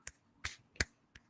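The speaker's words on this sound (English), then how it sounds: "I'm snapping instead of clapping because that's what you're supposed to do" Four crisp finger snaps ring out alone in a quiet room, unevenly spaced over just over a second, with the middle two snaps loudest.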